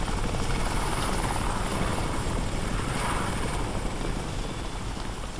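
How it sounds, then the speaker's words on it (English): A helicopter flying overhead in the shooter game Crysis Warhead, a loud, dense, continuous rotor roar that holds steady throughout with no talking. "Another helicopter."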